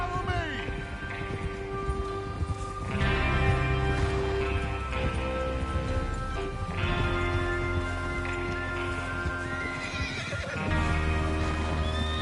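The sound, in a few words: horses neighing and trotting in video game Red Dead Redemption 2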